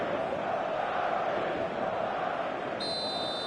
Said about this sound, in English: the matchday noise at this place is truly special